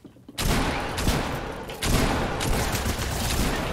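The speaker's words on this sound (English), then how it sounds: "he's shooting" Rapid bursts of gunfire from a Fortnite match, a loud dense volley starting sharply and a second surge midway, sustained close and alone.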